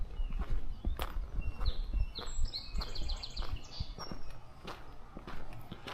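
Song sparrows singing outdoors on a morning walk in Belfast, Maine, bright trilling phrases fairly faint over nearby crunching footsteps and light rustling.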